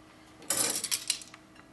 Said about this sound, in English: Okay, so with the silverware, it's always important when you have silverware that there's no spots.